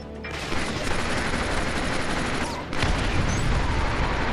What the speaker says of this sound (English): I'm going to use this turret